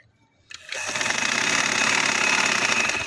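A sewing machine stitches thick fabric while a collared short frock with a belt is being made, starting abruptly after a brief quiet moment and then running as a steady, loud, continuous whir with no talking.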